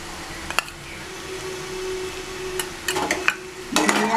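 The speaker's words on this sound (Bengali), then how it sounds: "আমি আবার নাড়িয়ে নিচ্ছি" Banana flower curry (mochar ghonto) with ghee and garam masala stirred in a pan, a faint steady hum under sparse scrapes that become a busier clatter of stirring near the end.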